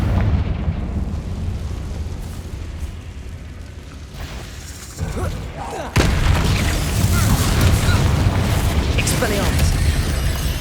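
Blasting Confringo spell in Hogwarts Legacy: booming, crackling bursts of explosion amid combat noise, swelling sharply partway through into a loud sustained roar, with a voice talking over it.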